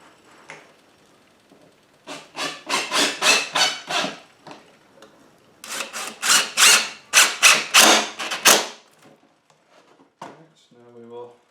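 A power drill drives screws into a wooden chicken coop window frame, giving two bursts of rapid whirring and ratcheting a few seconds long, close and loud, with quiet handling sounds in between.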